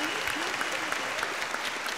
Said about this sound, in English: Can we have a round of applause for our technology department?